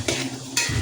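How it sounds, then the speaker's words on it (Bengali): Mutton with spices sautéed and stirred in a pan, heard as two quick, close stirring scrapes over a steady sizzle. "মাটনটা কষবো"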